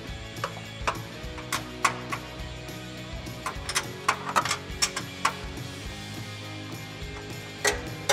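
Wrench tightening a suspension bolt on a Jeep Wrangler JK, a string of close metallic ratchet clicks and taps in uneven bursts over a low background hum.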